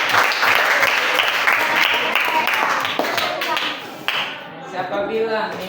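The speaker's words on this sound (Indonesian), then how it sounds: "Tepuk tangan dulu." An audience claps for about four seconds in a dense, steady patter that thins and fades toward the end, with brief talk underneath.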